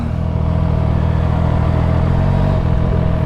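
A Makina motorcycle engine-brakes on a test ride, its loud, steady drone close to the rider and mixed with wind rush and a faint mechanical clatter.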